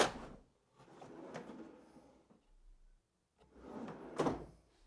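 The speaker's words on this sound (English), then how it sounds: "push straight back until you hear the latches click into place." A drawer box is pushed onto undermount slides in a cabinet. Rolling, scraping slide noise ends in a sharp click, then another push finishes with a louder clack as the latches seat. Both are close and free of talk.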